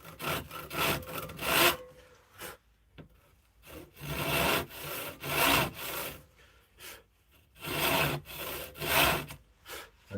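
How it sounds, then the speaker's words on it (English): A hand saw rasps through wood in repeated back-and-forth strokes, close and loud, with short pauses between bursts of sawing. "I can just hold the saw, and I'm going to just cut down there"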